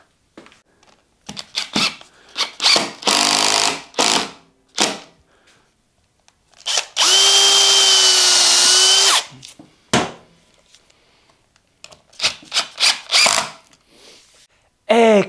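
A power drill drives screws into a guitar body in short repeated bursts with pauses between them, ending in one longer sustained whine near the middle.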